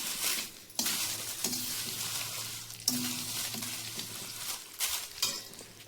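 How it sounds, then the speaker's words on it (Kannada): A bay leaf fries in a pan with garlic while a masala is prepared, with a steady close sizzle, crackling spatters and a spoon scraping and stirring at intervals, and no talking. "ಇದು ಪಲಾವ್ ಎಲೆ. ಇದು ಚಲೋದಾಗಿ ಹುರ್ಕೋಬೇಕು."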